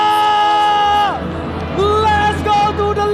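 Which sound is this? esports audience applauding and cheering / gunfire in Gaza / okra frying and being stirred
esports audience applauding and cheering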